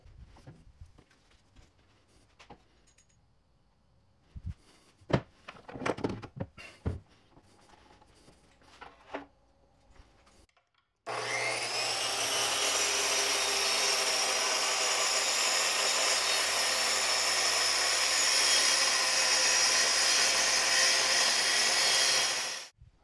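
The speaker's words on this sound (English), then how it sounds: "when you run them through the planer and get them all cleaned up" A 20-inch wood planer cleans up live-edge wood in a woodworking shop, starting after some quiet scattered clatter and handling noises, then roaring loudly and steadily with a dense, broadband whir for about twelve seconds before cutting off.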